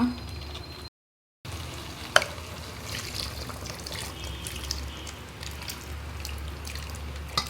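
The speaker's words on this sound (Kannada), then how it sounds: "ನೀರು ಹಾಕ್ಕೊಳ್ಳೋಣ" Water is poured into a pan of sizzling masala for a potato chicken curry, giving a steady frying hiss. A brief gap breaks the sound, followed by a few clinks and splashes as the pan is stirred.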